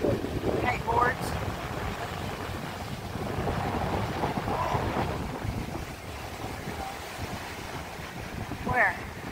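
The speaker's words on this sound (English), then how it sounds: "It's really windy out." Gusty wind by the sea buffets the microphone in low rumbling waves outdoors, with faint voices and distant surf noise beneath.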